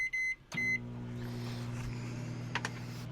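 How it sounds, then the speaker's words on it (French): A microwave oven powered by a Bluetti Elite 300 power station starts up: a keypad beep, then a steady low hum of the running oven with a few brief clicks and beeps over it. "je vais partir le micro-ondes"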